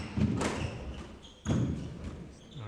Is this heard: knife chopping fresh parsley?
no